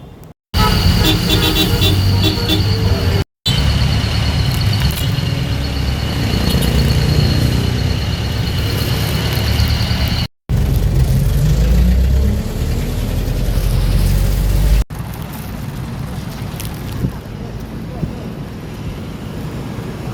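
A jeep's engine runs and idles amid passing traffic, a steady loud rumble with wind buffeting and a few breaks, horn-like tones briefly standing out early on.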